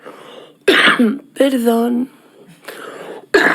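A speaker in a Spanish-language talk coughs and clears her throat in loud bursts between short stretches of speech, with a spoken apology in between.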